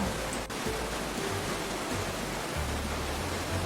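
A waterfall in the Roblox video game rushes with a steady, even hiss of water, constant and moderately loud from start to finish, with no voices over it.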